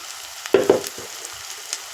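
Fish fries in a generous amount of oil for a Telugu fish curry, giving a soft, steady sizzle with a couple of short louder crackling bursts near the middle, close by and without talk.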